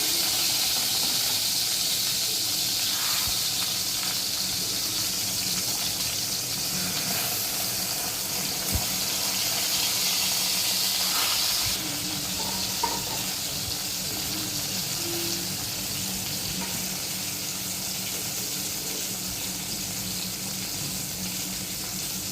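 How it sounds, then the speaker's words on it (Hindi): Sliced brinjal (eggplant) frying in hot oil over a slow-to-medium gas flame, a soft, even hiss that runs on steadily with faint clatter and no voices. "इसमें ये जो बैंगन मैंने जो काट के रखे हैं, स्लाइसेस किए हैं, ये मैं इसमें फ्राई करने के लिए डालती हूँ।"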